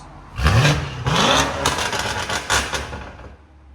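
A 2020 BMW M850i's 4.4-litre twin-turbo V8 with catless downpipes, an X-pipe and the exhaust valve open gives several sharp, loud revs up close, each rising and falling, then settling toward idle.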